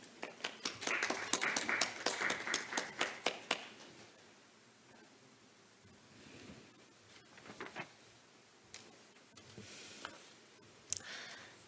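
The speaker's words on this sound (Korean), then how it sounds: "박수로 맞이해 주시기 바랍니다." Audience clapping to welcome the speaker at the opening of a KOICA climate and infectious disease session at the 2021 Global Korea Expo, with a burst of dense claps that thins into scattered, fading claps and faint movement.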